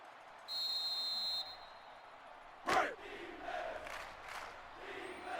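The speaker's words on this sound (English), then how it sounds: "You can hear the Jacksonville State crowd getting into the action" Stadium crowd noise in NCAA Football 06 at a Jacksonville State home game, a steady roar with a loud burst midway, a brief whistle-like tone early, and swelling cheers afterward.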